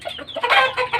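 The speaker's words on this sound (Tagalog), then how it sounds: "Dito yung mga manok niya." Caged chickens cluck in quick, close, overlapping bursts, with soft chatter building to a louder flurry in the middle.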